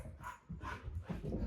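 A pet dog being exercised at home at the end of the day, with short broadband bursts like barks or scuffling movement over a low rumbling background, fairly close but quiet.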